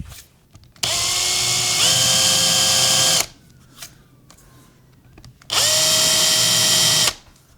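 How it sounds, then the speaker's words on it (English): A very small power drill boring switch holes into a semi-hollow Jazzmaster-style guitar body, whining loudly in two long bursts of about two and three seconds, separated by a quiet pause with a faint hum. "Teeny tiny drill. The tiniest of tiny drills."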